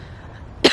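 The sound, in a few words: cough after choking on air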